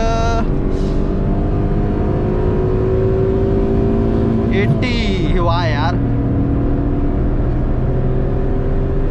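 A Maruti Alto car engine climbs in pitch as it accelerates hard through first and second gear, droning steadily close by with a brief shift dip midway while people talk over it.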